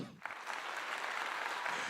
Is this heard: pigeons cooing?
no